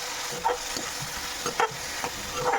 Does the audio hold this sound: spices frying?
yes